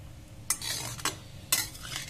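Amla with black salt and rock salt being stirred in a pan, giving a few distinct spoon scrapes over a soft steady sizzle, alone without voices.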